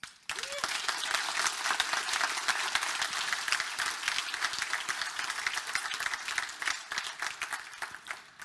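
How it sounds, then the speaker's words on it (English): Audience applause at a network operators' conference opening, a loud, dense burst of many hands clapping that starts abruptly and continues steadily for several seconds before trailing off. "So please give a round of applause for NetNode."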